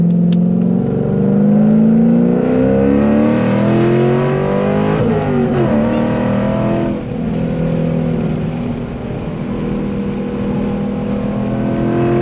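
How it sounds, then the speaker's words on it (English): A C5 Corvette Z06 on Nitto NT555 G2 tires drives through curves at night, its loud steady engine drone rising and falling in pitch as it accelerates and eases off, heard from inside without talking. "We're about to hit a couple curves to see how the car feels"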